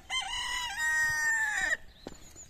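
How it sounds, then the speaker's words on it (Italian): A Lakenfelder rooster crows nearby, one long, loud, drawn-out call lasting over a second and a half, then stopping abruptly, followed by a few soft clucks. "questo è un gallo alla Lackenfelder"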